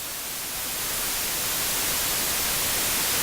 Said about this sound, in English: I'm using white noise as an example for highs.